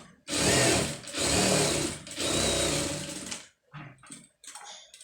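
An embroidery-blouse job on a sewing machine: loud close bursts of fast stitching in three long runs, then a few short stop-start spurts near the end.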